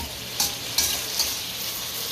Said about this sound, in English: But frying it like this will also keep your eggplant nice and purple as well.